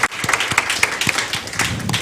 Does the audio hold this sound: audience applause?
yes